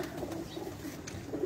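Rooftop pigeons coo softly in Mianwali, a low murmuring call repeating over faint ambient background.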